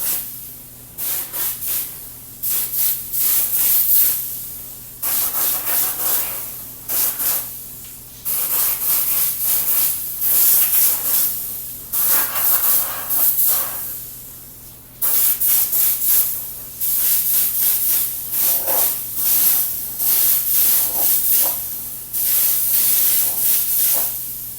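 A spray gun lays undercoating on parts of a 1967 Porsche 911 under restoration: repeated loud hissing bursts, each a couple of seconds long, separated by short pauses, close and without talk.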